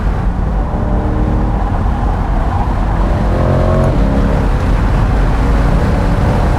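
A new C8 Corvette at high speed on a mountain road, its engine roaring loud and close from inside the car, a continuous heavy drone with rising pitch as it pulls hard, no talking.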